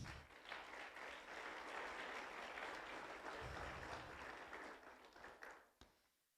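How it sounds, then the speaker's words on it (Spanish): A church congregation at a Spanish-language service bursts into applause, a thick, sustained wash of many hands clapping that thins and fades away in the final seconds. "Démosle palmas a Él."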